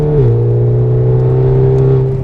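A tuned 520 hp VW Golf R Mk7 with a loud exhaust drones close and loud, its engine note dipping briefly early then holding a steady, strong tone as it pulls.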